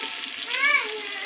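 Onions fry in a pan over a wood-fired stove for a country chicken curry, with a steady close sizzle and a brief stirring scrape partway through.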